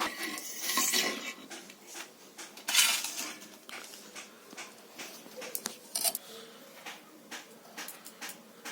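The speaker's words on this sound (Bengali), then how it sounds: "আমি এখন আলুটা কেটে দিচ্ছি" A knife works through peeled potatoes in a home kitchen, giving a run of sharp clinks and taps against a board or metal pan, irregular and close, with a few louder strikes and no talk.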